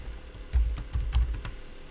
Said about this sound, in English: Oh, if I can type.